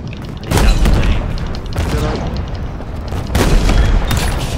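Tank cannon blasts boom through a Halo Infinite custom match, several heavy explosions rolling out at intervals amid continuous game noise.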